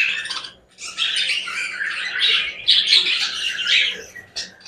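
Flock of young lutino red-eye budgerigars, about four to five months old, chattering and chirping continuously in a close, dense stream of squawks and tweets with brief dips.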